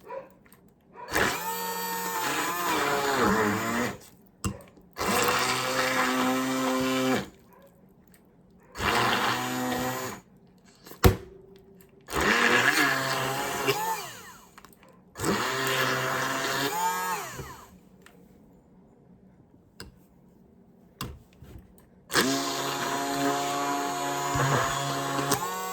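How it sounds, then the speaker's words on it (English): An immersion blender stick whirs through deviled egg filling in a glass container in repeated bursts of a few seconds each, the motor pitch wavering as it churns, with short pauses between pulses. "I like to blend the mixture in a glass container so that I can see the bottom to make sure everything got"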